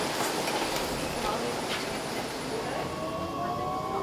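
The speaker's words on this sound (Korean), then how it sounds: "미끄러지듯 출발하는 경전철 안에서" A light rail subway train pulls away smoothly from a station, with a steady broadband rumble of wheels and motor and a faint rising whine, the noise holding constant and fairly loud throughout, with possible murmured voices underneath.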